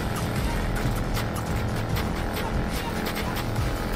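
Racing car engine in Need for Speed Heat roaring steadily at high speed with nitro boost, a continuous dense drone with a faint voice in the background.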